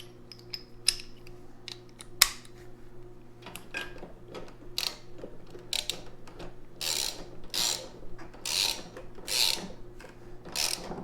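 A socket wrench with an extension and a 13/16 spark plug socket ratchets on a Honda HRR-series lawnmower, giving a close series of quick clicking strokes that grow faster and louder toward the end.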